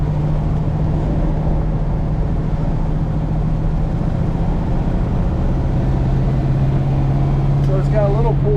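A 1956 Chevrolet Corvette engine pulls steadily in third gear on the road in Las Vegas, a loud continuous drone with a sustained low hum holding throughout, and a brief voice rising near the end.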